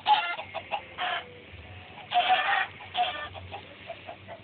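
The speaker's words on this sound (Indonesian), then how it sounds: "Lihat ayam yang di bawah mati semua." Chickens cluck in a blocky sandbox video game, several short bursts of clucking in an uneven rhythm, close and clear with quiet gaps between calls and no talking.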